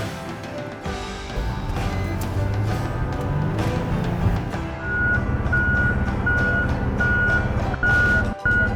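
New fire truck number 31 sounds its reversing alarm, a steady series of evenly spaced electronic beeps over a rumbling engine and background bustle, with the beeps becoming clearly regular midway.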